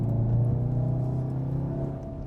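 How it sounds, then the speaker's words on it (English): A 2015 Volkswagen Golf R with a turbocharged 4-cylinder TSI engine and DSG gearbox on the move, giving a steady, close engine drone with a low rumble that eases off slightly toward the end. "with this 4-cylinder TSI engine, turbocharged"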